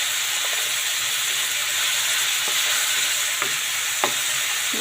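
Food sizzling steadily in a pan, a loud continuous hiss with a few soft clinks and knocks from stirring, no talking.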